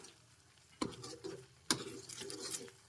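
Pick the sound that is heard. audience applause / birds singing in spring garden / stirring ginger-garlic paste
stirring ginger-garlic paste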